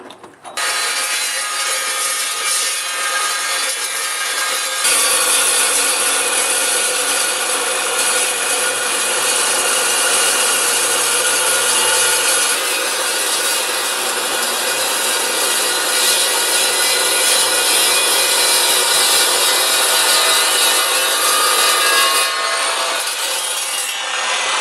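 Evolution EVOSAW380 saw cutting through a big piece, a harsh, loud, sustained grinding whine that runs steadily for over twenty seconds, shifting in tone partway through before cutting off near the end.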